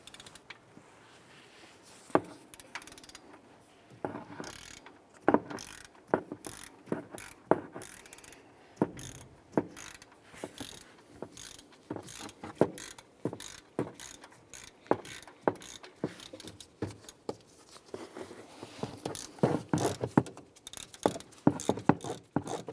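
Irregular clicking and ratcheting from a socket wrench loosening a bolt above the idler pulley on a Ram engine, with scattered metallic clanks and tool handling, fairly quiet and close.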